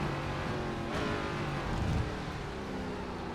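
ARCA stock cars in a racing sim video game at COTA, a steady, dense engine drone from several cars at once, with a brief swell in pitch and loudness partway through.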